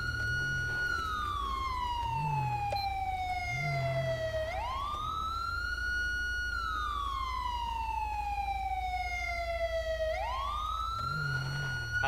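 A police siren wails in GTA V from a State Trooper Crown Victoria, with long rising and falling sweeps over a steady engine rumble and a brief deeper horn-like tone, loud, close and continuous.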